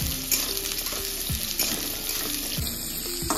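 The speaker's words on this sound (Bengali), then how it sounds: "এবার কুমড়োগুলোকে আমি হাই টু মিডিয়াম ফ্লেমে 2 থেকে 3 মিনিট নেড়ে দিচ্ছি।" Pumpkin pieces fry in a pan over high to medium flame, crackling and sizzling steadily while a spatula scrapes and stirs them in repeated strokes.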